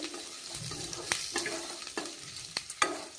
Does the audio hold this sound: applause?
no